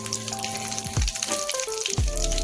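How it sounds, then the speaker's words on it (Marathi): Cumin and mustard seeds sizzle in hot oil in a kadai, a steady crackling fry with sharper pops near the start and at two points in the middle, close and fairly loud, with a low tonal hum underneath. "तेल तापलेलं आहे छान. जिरं टाकले त्याच्यामध्ये. मोहरी चांगली तळतळल्यावर आपण जिरे टाकले."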